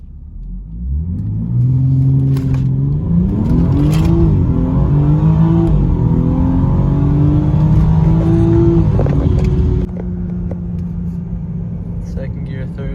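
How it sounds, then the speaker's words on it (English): Test cars on a private track outside a shop, near and loud, with a deep engine rumble rising through repeated revs and gear changes as the car accelerates, then settling to a steadier lower drone. "We got a lot of test cars running through."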